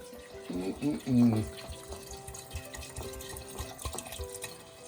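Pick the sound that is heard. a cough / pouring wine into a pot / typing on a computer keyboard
pouring wine into a pot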